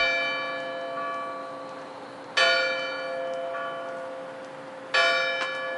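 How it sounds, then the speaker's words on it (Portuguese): A nearby church bell tolls at midnight, with two loud strikes and long ringing decays filling the stretch between them, heard alone with no voices. "o sino da igreja próxima tocou 12 vezes"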